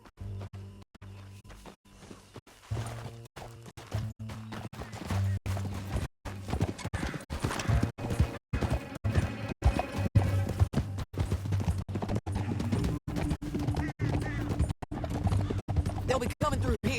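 A horse gallops in Red Dead Redemption 2 with rapid, rhythmic hoof clip-clop over a low rumble. The steady pounding is close and fairly loud and runs alongside game sound effects.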